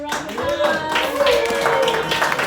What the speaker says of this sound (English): Clap it up for Ramadan